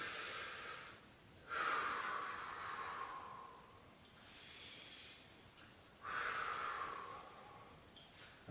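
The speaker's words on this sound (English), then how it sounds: "breathe in as we go down and blow out as we go up" Heavy exercise breaths during seated press-ups in a chair cardio class: two long, forceful exhales through the mouth, each followed by quieter inhaling, close and alone.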